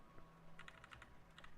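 Typing on a computer keyboard in a short burst of clustered keystrokes, close and moderately quiet, with a faint low hum underneath.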